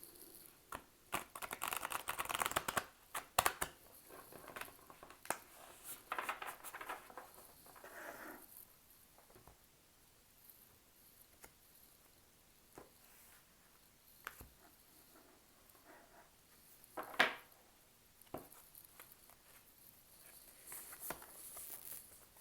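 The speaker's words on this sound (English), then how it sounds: "So I'm just going to shuffle the cards a few times." Soft riffling and papery slaps of tarot cards being shuffled for a reading, in quiet irregular bursts with pauses between, close and fairly faint.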